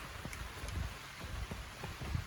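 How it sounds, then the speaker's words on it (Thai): Heavy rain starting to fall outdoors in a garden, a dense patter of drops with scattered louder splashes, faint and continuous. "โอ้ยเริ่มตกหนักแล้ว"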